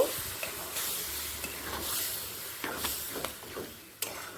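Chickpea cooking water poured into a pan of frying minced chicken, giving a soft, steady sizzle and hiss with a few stirring scrapes and clicks, close but fairly quiet.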